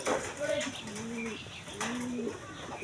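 A pet dove coos in repeated soft, rounded phrases close by, with a faint human voice and light background noise underneath.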